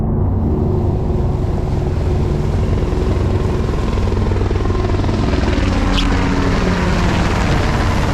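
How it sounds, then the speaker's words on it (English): Black Hawk military helicopter rotors thud steadily under a loud broad wash of engine and wind noise, constant throughout with no voices. "oh, look, the Black Hawk helicopters"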